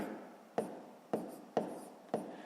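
A pen writing on paper, faint close scratching strokes with a few sharp taps roughly every half second, quiet, no talking.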